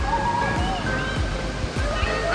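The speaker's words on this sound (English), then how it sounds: "It's about to be a big old waterfall." Heavy water rushing down like a waterfall on a waterpark ride, a loud, continuous roar and slosh close by with people's voices faintly underneath.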